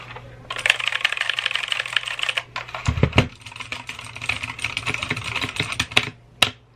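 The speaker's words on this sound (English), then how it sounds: "makes me want to type a whole essay, a whole novel, just to hear the clicky clicks" Brisk typing on a mechanical keyboard with clicky keys, close and continuous, with a few heavier key strikes and a short pause near the end.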